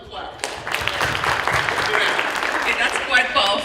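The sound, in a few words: audience applause, clapping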